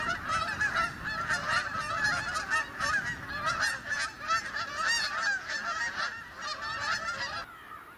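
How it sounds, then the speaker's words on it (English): A flock of Canada geese flying over a sanctuary honks continuously, many overlapping calls in a busy rhythm, fairly loud and clear with no talking. "We're still getting loads of Canada geese commuting through here."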